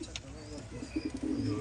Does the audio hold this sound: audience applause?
no